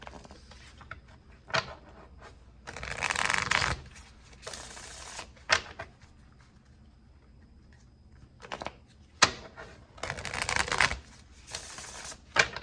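Tarot cards being shuffled, crisp riffling bursts arriving in irregular clusters with quiet gaps between them, close and fairly soft, and no talking.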